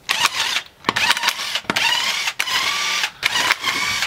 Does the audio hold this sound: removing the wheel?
yes